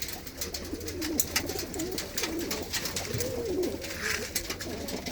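Pigeons at a Punjabi breeder's loft coo softly and repeatedly in a steady low murmur, with rustling nearby and no talk over them.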